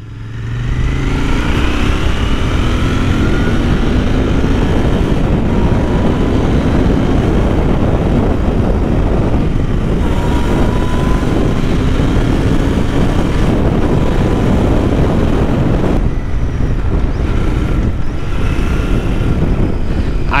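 A Royal Enfield Continental GT 650 engine runs loud and steady while riding, a dense continuous roar with wind rush and subtle shifts in pitch as the revs change, no voices.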